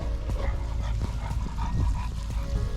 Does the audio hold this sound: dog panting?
yes